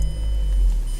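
A 2007 Mazda Miata engine catches on the key and settles into a steady low idle hum, close and loud, with no talking.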